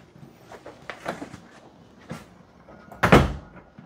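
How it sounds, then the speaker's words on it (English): A sliding door in a 2024 Alta 3250KXT Xtreme 365 travel trailer is moved, giving a series of soft rolling rattles and knocks that end in one louder thud, all close and fairly quiet in an otherwise still interior. "Sliding door to block off the hallway from the bedroom."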